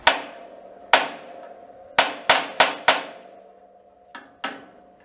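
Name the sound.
hammer whacking metal on the end of a vise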